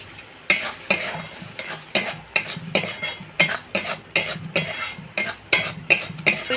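Egg curry masala with chilli powder fries in a pan while a spatula scrapes and stirs it, giving regular rhythmic scraping strokes over a soft sizzle, close and clear with no talk.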